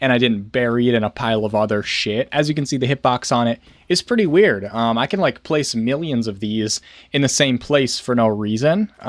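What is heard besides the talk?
No distinct noise like a dog, phone or traffic.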